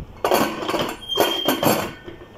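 Metal pressure cooker lid being fitted onto the pot over a batch of goat intestine masala with water and salt, heard as a few close clanks and scrapes of metal in irregular bursts.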